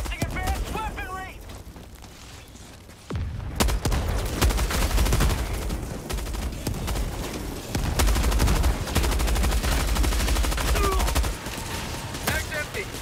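Heavy gunfire from the video game Helldivers 2, with rapid bursts and booming shots packed densely across the whole stretch and loud throughout, while voices call out over the battle.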